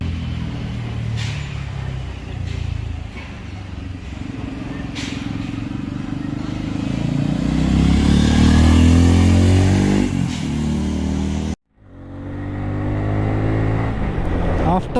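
Bajaj Pulsar N250 motorcycle engine revving hard under acceleration, the pitch rising steadily, dropping briefly at a gear change, then climbing again; loud and close with wind noise.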